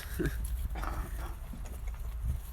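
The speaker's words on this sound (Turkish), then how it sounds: "köpekler sabah kahvaltısına geldiler" Akbaş dogs make brief barking and snuffling sounds close by over a steady low rumble, with a few short bursts in the first second.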